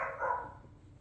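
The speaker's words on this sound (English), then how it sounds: "My little puppies are so noisy tonight." A puppy gives a single short, soft bark or yip indoors at night, heard alone and fairly faint.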